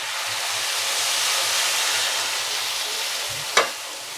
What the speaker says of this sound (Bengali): এবার আমি মাপ করে ঝোলের জলটা দিয়ে দিই